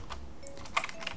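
A command being typed on a computer keyboard: a short, quiet run of light key clicks, close and alone, lasting about a second.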